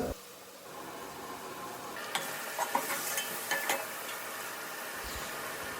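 Onions with ginger garlic paste sautéing in a pot for a large mushroom biryani, a steady loud sizzle with several sharp stirring scrapes in the middle, no talking.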